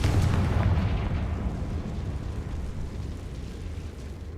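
A Confringo fire spell blast in Hogwarts Legacy lands as a loud, deep explosive boom at the start, then rumbles and decays into a long fading roar.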